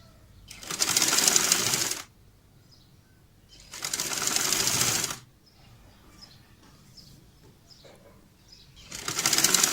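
Sewing machine stitching a fabric sofa cover for a seven-seater set at home, running in three separate bursts of steady mechanical whirring with quiet pauses between them as the fabric is turned around a curve.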